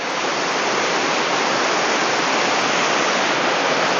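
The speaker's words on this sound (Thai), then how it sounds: "ตรงนี้จะเป็นม่านน้ำตกอีกแห่งหนึ่งนะครับ" A curtain of water at Pha Kluai Mai waterfall in Khao Yai roars in a loud, steady, broadband rush that stays constant and close, with no voices over it.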